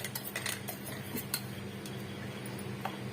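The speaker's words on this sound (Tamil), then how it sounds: "இப்ப சல்லடையில வந்து கொட்டிட்டு சலிச்சிக்கலாம்." Ground chicken masala powder is sifted through a fine metal sieve, giving a run of quick, light metallic taps and scrapes against a steady kitchen background. No one speaks.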